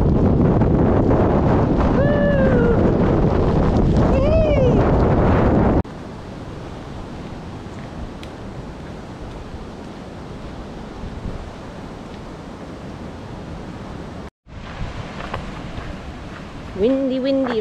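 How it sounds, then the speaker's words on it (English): Strong wind and rain buffet the microphone on a coastal hill with a steady roar, broken by a brief dropout, while voices talk over it at the start and end. "I think the rain and wind is getting worse."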